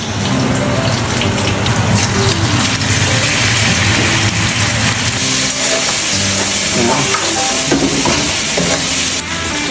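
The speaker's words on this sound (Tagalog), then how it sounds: "Magluto tayo ng ribs. Prituin natin siya ng konti." Pork ribs fry in a pan with a loud, dense, continuous crackle and spatter like heavy rain, steady from start to finish with a faint tonal hum underneath.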